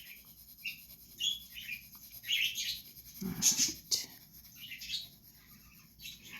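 Pet birds chirp and sing indoors in short, bright bursts spread through the clip, with a louder flurry near the middle, while a person speaks briefly nearby.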